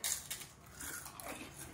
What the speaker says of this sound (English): Thank you for chewing with your mouth open.